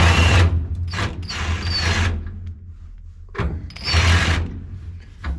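A half-inch socket wrench ratchets in two loud, close bursts of rapid clicking, separated by a quieter pause, while straps are loosened on a Gleaner R72 combine hopper floor.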